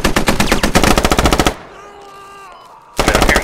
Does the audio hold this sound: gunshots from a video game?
yes